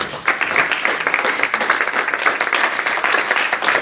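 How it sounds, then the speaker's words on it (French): A church congregation applauding, a dense, steady wash of clapping from many hands that holds evenly for a few seconds. "Acclame le Seigneur pour sa réponse."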